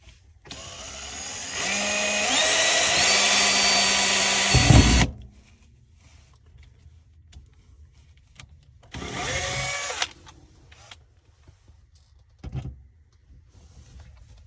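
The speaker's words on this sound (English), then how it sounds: "So I'll be drilling some pilot holes to put this plate on in order to secure the mirror." A power drill bores pilot holes for a swivelling, lighted wall-mirror plate in the bathroom of an Embassy Dolphin motorhome, with one long loud whining run of about four seconds followed by a shorter burst.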